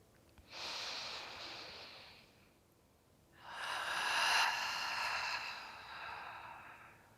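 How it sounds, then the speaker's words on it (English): Slow, deep breaths during a centering exercise, a long inhale and then a longer, louder exhale, each a soft airy rush with a quiet pause between. "let's breathe in and breathe out, centering with your breath"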